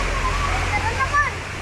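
Floodwater after an overnight downpour flows and sloshes in a brief, close rush of water, with a voice talking over it.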